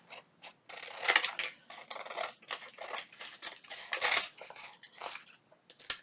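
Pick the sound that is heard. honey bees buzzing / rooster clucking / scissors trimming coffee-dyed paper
scissors trimming coffee-dyed paper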